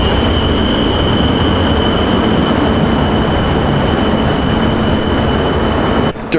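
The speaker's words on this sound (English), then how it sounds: "the LRT, which is the metro train system here in Manila" A Manila LRT metro train runs loud and close, with a continuous roar of wheels on rail, high squealing tones and steady rolling noise throughout, and no voices.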